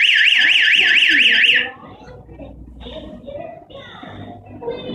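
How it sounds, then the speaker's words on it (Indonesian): A door alarm triggered by the door opening blares a loud, fast warbling tone for under two seconds, then cuts off as a person starts talking. "membuka pintu pada malam hari, maka alarm ini akan berbunyi."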